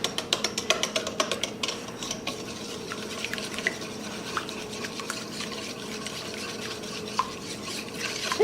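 A whisk stirring kolache dough in a mixing bowl, with a steady run of soft scraping and clicking strokes against the bowl close by, quick taps early on settling into continuous mixing.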